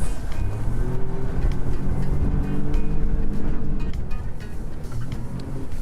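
Highfield Ocean Master 390 boat with a 50 outboard engine running on the water, a steady loud low engine drone with hull and water noise throughout, no talking.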